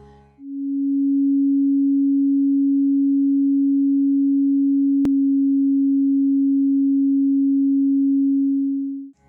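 Two pure sustained tones, a Western-tuned C sharp and an alternative C sharp tuning, play one after the other with a click at the join, steady, clear and alone, with no talk.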